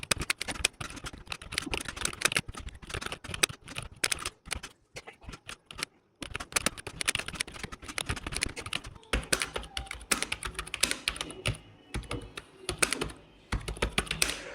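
Fast, continuous typing on a computer keyboard while writing a daily note in Notion: dense, close key clatter with brief pauses, alone and without speech.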